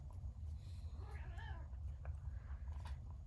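A cat meows in a short rising and falling call midway through, over a steady low background hum, with faint voices nearby.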